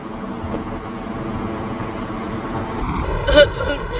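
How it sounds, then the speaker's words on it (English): Busy road traffic in Ghana, with a constant rumble of cars, trucks and buses crawling past nearby, a louder vehicle sound swelling near the end, while someone talks over the noise. "Look at the traffic that they cause."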